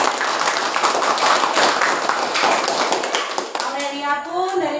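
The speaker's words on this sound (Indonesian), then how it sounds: "Beri aplaus dulu untuk kelompok satu." Classroom applause for a student group after their presentation, a few seconds of brisk, close clapping from many hands that fades out as a teacher starts speaking.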